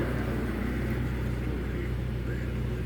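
A Nissan Almera with a QG15 engine idles slightly high at around 900 RPM, producing a steady, even low drone with no change throughout.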